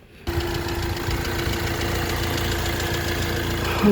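A 2016 diesel i20 car engine idles steadily after a sudden start, a low, even rumble with a faint knocking pulse and a thin steady hum above it.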